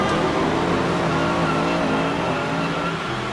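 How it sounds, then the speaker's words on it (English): Formula One race cars roar together at the start of the 1956 French Grand Prix, a dense, loud, sustained engine din with no gaps. "Les moteurs rugissent."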